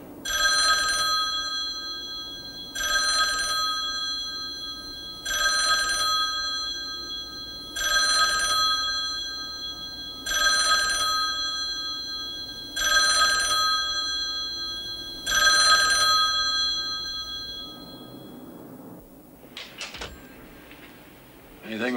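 An old telephone bell in a prison cell block rings unanswered, seven even bursts of loud ringing spaced a couple of seconds apart, then a short clatter of faint noises at the end.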